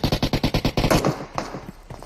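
Rapid automatic gunfire in PUBG Mobile, about eight evenly spaced shots in a quick burst followed by a few scattered, fainter reports, loud and close with no talk.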